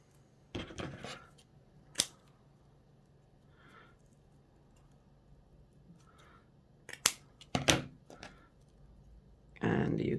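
Scissors snip ribbon for millinery trimming in a few separate crisp cuts spaced out over quiet room tone, with a voice speaking now and then.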